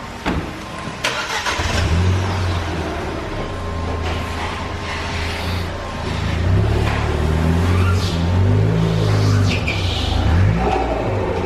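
A Ford Fiesta ST180 starts up and is driven off a dyno at a tuning workshop. The engine catches, then runs with low rumbling and a few revs rising and falling, close and fairly loud, with clatter in the workshop and no talk.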